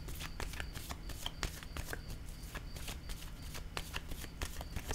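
Tarot cards being shuffled and laid down, a fast run of soft flicking riffles and light taps close by, fairly quiet and steady, with no voice.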